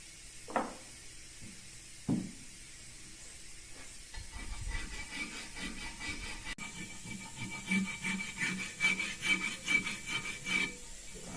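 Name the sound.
rasp filing alabaster stone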